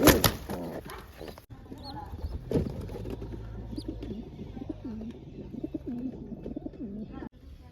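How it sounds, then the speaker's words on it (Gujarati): Pigeons coo repeatedly in soft, rolling calls at close range, with a person speaking briefly at the start. "બાકી ઘણા કબૂતર અહીં બેઠા છે"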